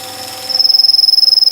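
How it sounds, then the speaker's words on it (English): A drill boring all the way through a wood pendant blank turning on a lathe, a steady high whine that starts partway in and holds with a fast pulsing rhythm, close and fairly loud. "So I'm now going to drill all the way through."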